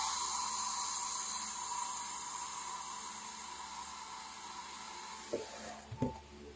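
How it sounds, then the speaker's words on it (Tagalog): A blower runs during assembly of a custom Merciless model kit, giving a steady, even hiss that holds for several seconds before a few brief knocks and handling clicks near the end. "Kailangan natin ng blower dito eh."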